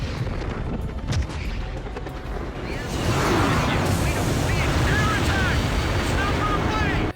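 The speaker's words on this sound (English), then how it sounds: "The Solg starts dropping a couple of shells" In the Ace Combat 5 video game, the SOLG satellite drops shells with heavy, rumbling booms and explosive blasts over a continuous loud roar of game noise and wind, denser and louder in the second half.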